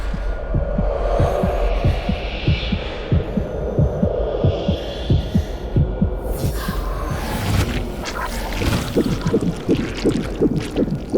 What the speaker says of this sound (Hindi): अचानक से दिल की धड़कन तेज हो गई।